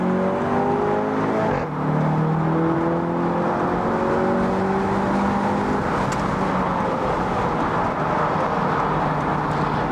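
An Audi TT Roadster convertible engine revs and accelerates steadily, its rising harmonic drone loud and close, with a brief dip in pitch before climbing again.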